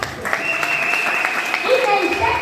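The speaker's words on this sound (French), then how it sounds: "Est-ce qu'on peut applaudir?" An audience applauds at a testimony gathering, a steady patter of clapping with voices and other sounds layered over it.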